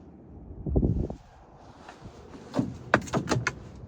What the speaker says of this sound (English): Close the door to lock it in place.